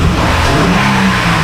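A car engine catches and runs after the key is turned, a shop repair fixed with 300-grit sandpaper instead of a replacement engine; a steady, close, loud idle-to-rev rumble continues throughout without speech.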